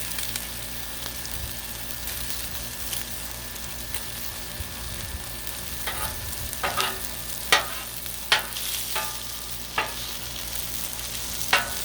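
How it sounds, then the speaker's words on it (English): Sausage sizzling on a Blackstone griddle, a steady close hiss punctuated by several sharp scraping and clanking spatula strokes toward the end, with no talking. "We want to make sure our sausage is mostly cooked."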